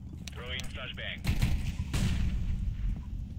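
Gunfire in CS:GO, a loud close report crashing out followed by another shot, over a steady game-noise bed, with someone speaking briefly over the early part.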